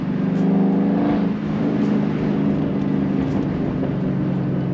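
A loud, mostly stock car engine with chopped mufflers pulls through second gear from about 1,500 to almost 3,000 RPM, its throaty exhaust note climbing steadily in pitch, close and continuous without talk.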